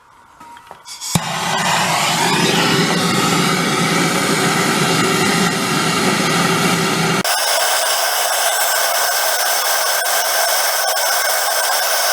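A torch roars steadily while heating a stuck nut on a Harman pellet stove, starting after a few clicks and continuing loud and close, with a change in tone partway through.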